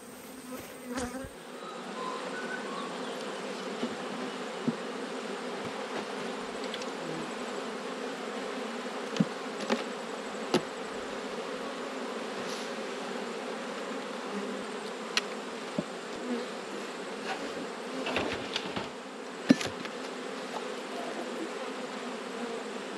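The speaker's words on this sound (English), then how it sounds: "All those frames of bees." Honey bees hum around an open, clean hive full of frames in a steady, close, continuous buzz, with occasional soft knocks and clicks over it.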